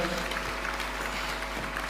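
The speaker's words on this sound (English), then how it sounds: "Why don't we welcome him with a warm clap, sir?" At an Africa fertiliser and soil health summit, an audience greets the President of Zambia with sustained, even applause, a steady wash of clapping heard over a low electrical hum from the hall's sound system.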